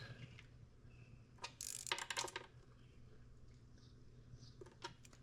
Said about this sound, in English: I'll come back here and snug up my 10 mils